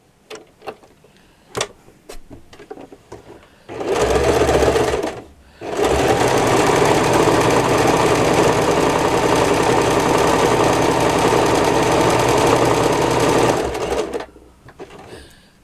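Sewing machine stitching patchwork with a machine embroidery technique: a few faint clicks and handling taps, then a loud, close motor whir with rapid needle chatter that runs for about two seconds, pauses briefly, and resumes for eight seconds before stopping.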